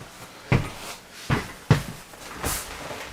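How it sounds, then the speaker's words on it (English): A door being closed, with several thuds and knocks at irregular intervals, close and fairly loud, followed by a brighter clack near the end. "I'm going to close that door."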